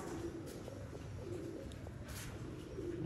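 Soft, low cooing of Lahori pigeons repeats in gentle rolling phrases, faint against a steady murmur of background noise.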